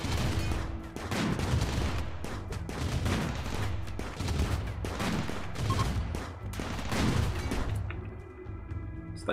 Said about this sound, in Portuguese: Você tá atirando, né, mano?